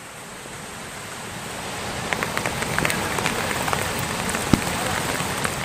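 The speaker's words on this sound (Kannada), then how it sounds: "ಚಿಕ್ಕಮಗಳೂರಿನ ವಿವಿಧೆಡೆ ಭರ್ಜರಿ ಮಳೆಯಾಗ್ತಾ ಇದೆ" Heavy rain falls across Chikkamagaluru as a dense, steady hiss, with scattered sharper drop impacts standing out over the continuous downpour.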